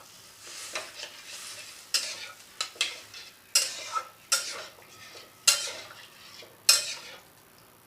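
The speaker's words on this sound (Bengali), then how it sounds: "ভালো করে নেড়ে দিলাম" A spatula stirs a watery potato curry in a pan, giving a series of distinct scraping strokes roughly every second over a faint simmer, close and clear with no voices.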